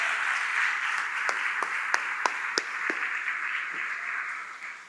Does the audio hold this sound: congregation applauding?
yes